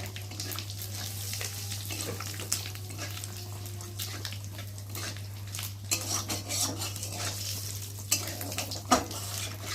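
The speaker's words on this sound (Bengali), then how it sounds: "আর গোটা জিরে দিয়ে ফোড়নটাকে ভালো করে ভেজে নেব" Bay leaf and whole cumin fry in hot oil in a wok that has just been used to fry prawns, giving a steady close sizzle with clinks of a metal utensil against the pan and a constant low hum underneath.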